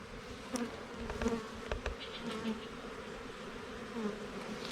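A steady droning buzz of a swarm of honey bees, fairly close, with individual insects briefly louder as they pass by.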